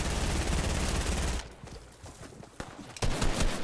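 Gunfire in the Fortnite video game comes as a dense rapid burst at first, then sparser individual shots and clicks, with loud shots returning near the end.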